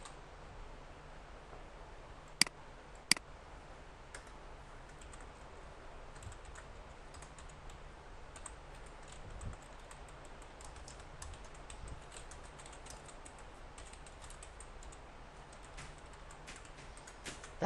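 Soft, quiet keystrokes on a computer keyboard while HTML code is typed, a steady patter with two sharper clicks early on, close by and without speech.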